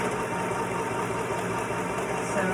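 Sewing machine running a temporary stitch along a half-inch seam allowance on a party dress, a steady, close motorised whir and hum without pauses.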